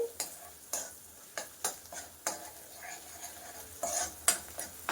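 Onions frying with ginger garlic paste in a pan give a low, steady sizzle broken by regular scraping and knocking stirs of a spoon against the pan, fairly quiet and close.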